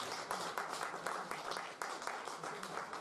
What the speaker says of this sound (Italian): Un applauso al nostro...